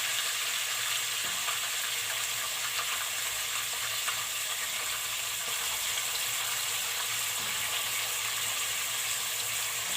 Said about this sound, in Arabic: نبدا بقى ننزل بالعكاوي واحده واحده كده، عشان يدي بقى تحميره حلوه كده للعكاوي